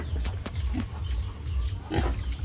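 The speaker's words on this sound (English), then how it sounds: "Baby, baby pigs." Baby pigs grunt and squeal faintly in a rural countryside setting, with a few brief, scattered calls over low background noise.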